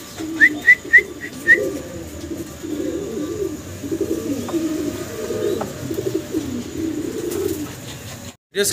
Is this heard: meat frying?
no